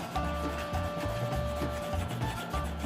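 A Crayola colored pencil fills in color on paper with a close, steady scratchy rubbing made of quick back-and-forth strokes.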